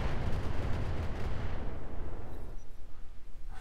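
Self-propelled artillery firing in the Roguetech mech game: a heavy, booming blast that fills the low end and then trails off into a rumbling decay, with no talking.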